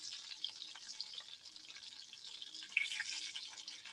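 Salmon sizzling in a pan with lemon juice just added, giving a steady, soft hiss with small crackling pops throughout, fairly quiet and close, with no talking.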